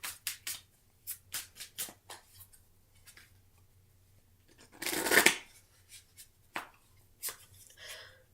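Tarot-style business advice cards being shuffled by hand: a run of quick, close riffling flicks, one louder dense shuffle in the middle, then a few scattered soft taps.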